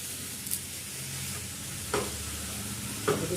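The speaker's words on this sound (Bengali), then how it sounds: "মাংস কষানো হচ্ছে, আর এখানে গরম জল দেওয়া হবে একটু বাদে।" Meat being stir-fried (kosha) in a pan, a steady sizzle with a frying hiss running throughout, broken by three sharp scraping clinks of a spatula against the pan at roughly even intervals, close and moderately loud with no talking.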